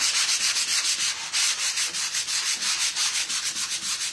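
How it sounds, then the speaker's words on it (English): Loud, rhythmic rasping strokes of a sanding block rubbing back and forth over wood, close and steady, with no talking. "I'm going to go over this with a sanding block from the Dollar Tree"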